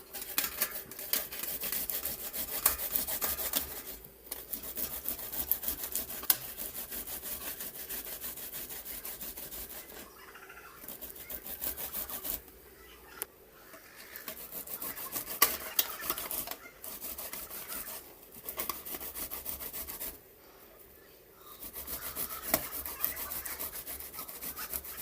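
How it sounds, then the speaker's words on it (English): Green banana grated by hand for Jamaican dumplings, a continuous scraping rasp at moderate volume, broken by a few short pauses between bursts of strokes. "Now I'm gonna grate my banana."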